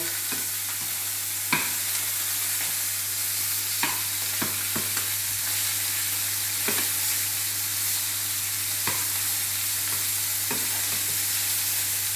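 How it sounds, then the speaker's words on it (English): Beef sears and sizzles in a frying pan with a steady hiss, while occasional sharp scrapes and clicks mark the meat being stirred and turned over, with no talking. "So what we're doing today is we're sealing the beef"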